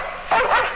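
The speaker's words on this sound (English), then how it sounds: "It was a hound dog puppy named Copper." A hound dog puppy gives a short, high yipping bark, one or two quick close yelps in a Disney story.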